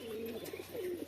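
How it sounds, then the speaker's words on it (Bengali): A single domestic flying pigeon gives two soft, low coos close by, a short quiet call with no speech. "আরও আছে বাজি পায়রা যেগুলো আপনারা দেখতে পাবেন"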